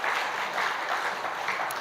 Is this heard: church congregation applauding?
yes